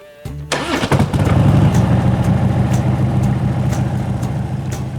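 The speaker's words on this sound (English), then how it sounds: "When the engine starts, it will need the help of the enrichener circuit for a bit." A carbureted Harley-Davidson motorcycle engine cranks briefly, then catches and settles into a loud, close, lumpy idle with a steady low throb that continues throughout.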